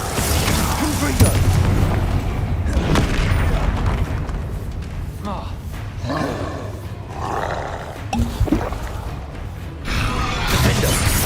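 Confringo fire spells from Hogwarts Legacy blast during a combat sequence, with repeated loud booming explosions, roaring bursts and clashing impacts in a dense, continuous battle din.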